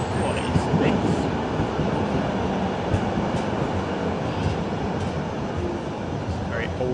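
An old heritage tram passing in Essen, with a continuous rumbling rail roll and faint squeals and clicks over a steady, fairly distant wash of noise.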